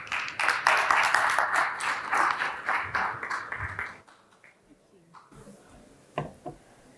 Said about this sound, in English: Round of applause for Gabriel, please.